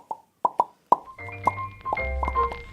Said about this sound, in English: Bubble, bubble, bubble.